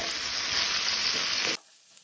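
Okra bhaji with kokum frying in a pan is stirred, giving a steady close sizzle with light scraping for about a second and a half before it cuts off abruptly to near silence.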